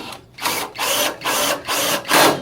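Power driver sending a screw into the mount while a 5x7 / 7x6 LED headlight is installed, four short whirring bursts with brief pauses between them, close and fairly loud.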